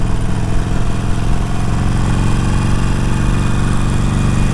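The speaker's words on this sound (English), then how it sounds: "This is a 20-mile-per-hour corner, so we'll go to second." Motorcycle engine on a canyon road, a loud continuous close-up drone as the rider shifts to second gear for a 20 mph corner.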